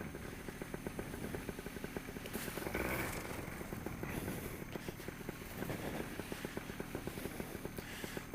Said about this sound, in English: Motor's still running, even without a perfect clutch.